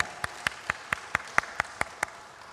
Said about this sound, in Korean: 우리 하나님께 한번 영광의 박수 올려드리겠습니다.